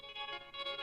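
An electric guitar recorded in stereo plays a sustained, shimmering chord with a pulsing, wavering tremolo, heavily processed with modulation effects, alone and moderately quiet.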